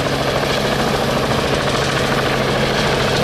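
Eight low-profile multipole brushless motors on an octocopter drone spin together in a steady, loud, dense whir with a constant pitch, running continuously at a model-flying event.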